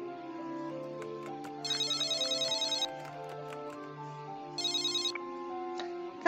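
A telephone rings in the video game Intruder in Antiquonia during phone calls: two bright bursts of electronic trilling ringtone, each about a second long, over a steady musical backdrop.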